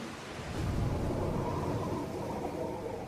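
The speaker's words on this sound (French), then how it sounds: "Des tempêtes tropicales s'abattent sur la planète." A tropical storm brings heavy rain in a dense, steady roar, with a low rumble of thunder swelling early and sustained throughout.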